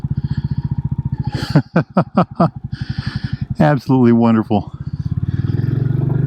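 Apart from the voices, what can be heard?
Royal Enfield Bullet 350 motorcycle riding and turning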